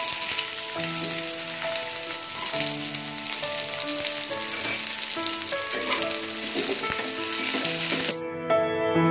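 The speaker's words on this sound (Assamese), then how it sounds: "এতিয়া তেলত প্ৰথমতে আমি নহৰুখিনি দি দিওঁ, সৰু সৰুকে কাটি থোৱা নহৰুখিনি।" Chopped garlic, ginger and onion fry in hot oil for chilli pork, giving a loud, steady sizzle with scraping stirs throughout, then cutting off sharply near the end.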